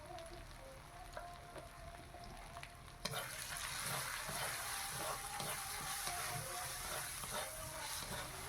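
A spice paste of onion, tomato, ginger and garlic fries in a pan, a quieter sizzle with light stirring scrapes that swells into a louder, steady crackling hiss partway through.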